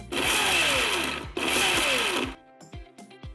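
A Bajaj Glamour mixer grinder with a military-grade jar grinds spices coarsely in two loud, close bursts of harsh whirring separated by a brief pause, then winds down and stops, followed by light clinks.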